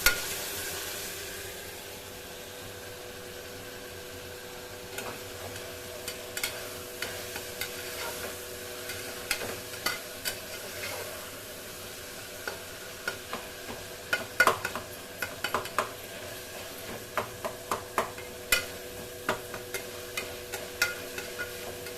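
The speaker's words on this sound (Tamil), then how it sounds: "தக்காளி போட்டு நல்லா வதங்குறோம்." Chopped tomatoes sauté in a frying pan for a banana-flower biryani, a soft steady sizzle under repeated scraping and tapping of a spoon against the pan, growing busier as stirring continues.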